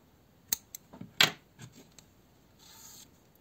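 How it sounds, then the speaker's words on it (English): Scissors snipping crochet yarn, with a few quiet close clicks and one sharper cut, followed by faint handling rustle, no talk. "Cut yarn"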